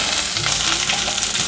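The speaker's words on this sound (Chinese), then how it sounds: "把豆干放下来也一起炒一炒，炒至豆干有稍微变成焦黄色了。" Dried tofu and carrots stir-frying in a hot pan for a vegan home-style dish, a dense, steady sizzle and crackle of oil heard close up, with no voices.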